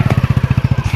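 A motorbike engine running steadily as a family of four gets on for a ride, a loud close putter of evenly spaced pulses with no speech.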